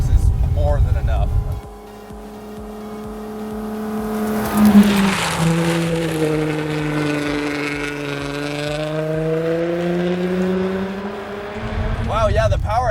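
An Audi Quattro rally car engine revs and pulls hard on a mountain road, its pitch sweeping up and down through the gears, loud and close, with a brief voice at the start and end.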